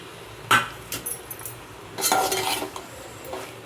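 A spoon stirs tomato and puffed rice uggani in a pan, with a few sharp clinks and scrapes against the metal and a longer burst of rustling stirring midway, over a quiet background.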